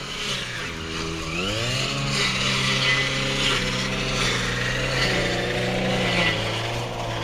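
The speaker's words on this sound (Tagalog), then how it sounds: "Grass cutter." A grass cutter engine drones steadily with shifting pitch, rising and falling as it runs, loud and continuous throughout.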